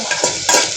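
Onions with ginger garlic paste frying in a pan, a close, continuous sizzle broken by quick stirring scrapes in a brief burst.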